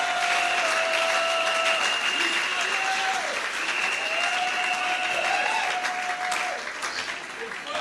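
A church congregation applauds to acclaim Jesus during a French-language worship service, a steady, dense wash of clapping that fills the whole stretch, with a tonal voice or instrument line sustained over it.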